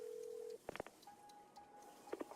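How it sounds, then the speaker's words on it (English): A phone in the Wanderstop video game rings with a steady electronic tone, then a few quick chirping blips and a second thinner tone, faint and with no talk. "Whose phone was that?"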